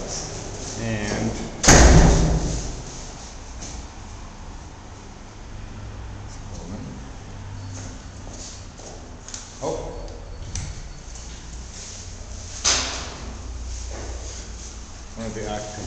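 A building's security entrance door opens and shuts, with a loud thump as it closes, followed by faint rattles and knocks amid steady street ambience and a later softer bang.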